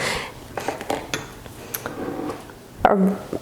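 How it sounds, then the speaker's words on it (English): A spoon clinks and scrapes in a bowl as a teaspoon of honey is stirred into yogurt, with a few light taps and one sharper knock near the end, no talking. "I have just a tiny little teaspoon of honey that I'm going to mix into my yogurt"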